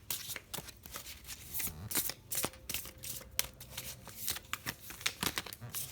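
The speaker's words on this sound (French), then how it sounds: "je vais prendre quelques cartes du tarot d'Osho" Osho tarot cards shuffled by hand, a quiet, steady run of papery riffles and flicks with brief pauses, close and soft.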